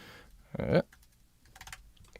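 A few quick keystrokes on a computer keyboard, close and fairly quiet: a short burst of clicks, then lighter scattered taps after a pause.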